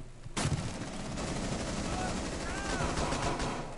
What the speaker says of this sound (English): Yep, I'm done. I hear gunshots.